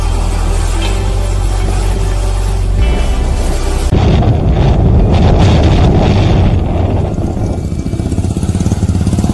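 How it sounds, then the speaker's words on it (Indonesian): Strong wind gusts across an open field at a transmigration settlement in Merauke, Papua, roaring loudly against the microphone in a continuous rumbling buffet that swells in intensity partway through, with no talking. "Ya, angin besar."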